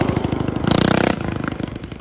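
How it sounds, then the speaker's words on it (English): A mini bike engine with a loud open header pipe chugs in rapid, close pulses, surging into a harsh burst of revs near the middle before settling back to its throbbing idle-like beat. "It is ridiculously loud with this header pipe. It does shoot flames, as I'll show you right here."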